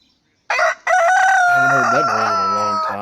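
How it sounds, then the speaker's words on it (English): A rooster crows loudly and close by as a sound effect in a tabletop roleplaying session, a short call breaking off before one long, drawn-out crow that rings alone for over two seconds. "As Elias and Steiger, you both hear the repeated sound of a rooster calling."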